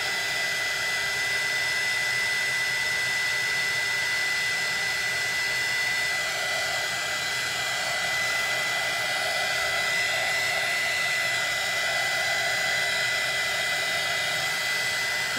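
A hair dryer blows steadily on glass and resin pumpkin art as it dries before stenciling, a loud, continuous airy roar that holds unbroken from start to finish.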